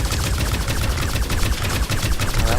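Sustained rapid weapon gunfire from the sci-fi shooter FireFall, a dense, loud continuous burst of automatic shots running the whole stretch with no talk over it.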